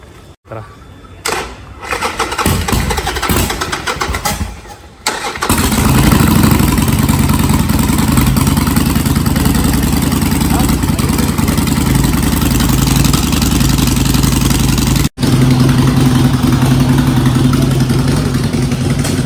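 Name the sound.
GT 650 motorcycle engine starting and riding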